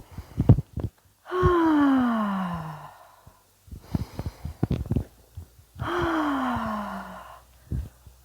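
Audible breathing exercise: slow, sonorous inhalations through the nose, two long drawn breaths with soft sighing exhales, close and quiet, separated by faint clicks and rustles.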